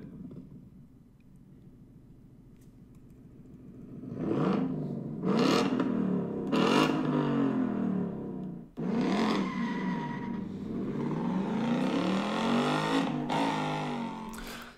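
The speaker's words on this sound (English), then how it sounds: "You hear a V8 and a manual transmission." A V8 engine with a manual transmission idles, then revs hard through several gears with brief drops between shifts, its exhaust roaring loud and close.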